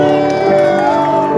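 Guests at a birthday celebration in São Paulo cheering and whooping, loud lively shouts over a steady bed of crowd noise, with a voice talking through it.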